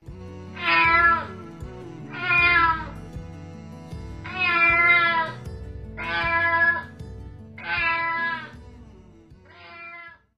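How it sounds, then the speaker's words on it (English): A cat meows six times in a row, drawn-out clear calls evenly spaced over a soft musical background, fairly close and moderately loud. "C for cat. C for cat."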